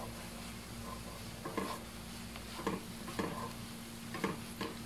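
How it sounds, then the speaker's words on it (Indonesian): Ingredients for spicy empal mercon sizzle as they are sautéed in a pan, with a spatula stirring and scraping in quick, irregular strokes over a steady hiss of frying. "Kita tumis sebentar."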